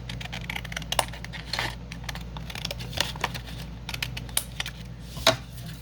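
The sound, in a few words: cutting paper down for a scrapbook pocket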